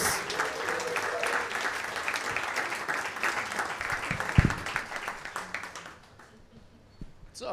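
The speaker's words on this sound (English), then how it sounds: "Come on, keep clapping. Start clapping again." Comedy club audience applauding and clapping for a comedian, a dense sustained wash of clapping that fades out toward the end with a few isolated claps remaining.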